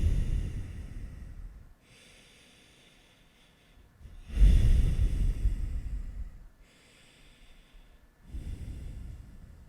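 Slow, steady breaths during a seated yoga forward fold, heard up close as three long airy exhalations separated by quiet pauses, the middle one loudest.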